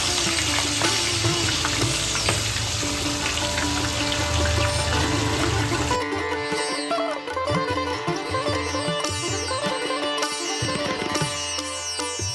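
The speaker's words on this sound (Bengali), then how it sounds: "এবার কড়াইয়ে সর্ষের তেল গরম করে মাছের মাথাগুলোকে বেশ লাল লাল করে ভেজে তুলে নেব" Fish heads fry in hot mustard oil in a wok, a dense, steady close sizzle that fills the first half, then continues more sparsely with occasional stirring clatter and bubbling crackle, with no voices.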